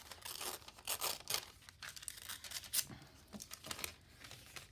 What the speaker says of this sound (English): I'm just going to rip the top of it